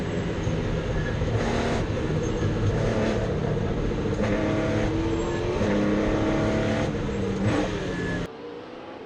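Porsche 964 and a NASCAR stock car racing at Brands Hatch, a loud continuous engine roar with shifting pitch and passing swells, ending abruptly in a quieter tail.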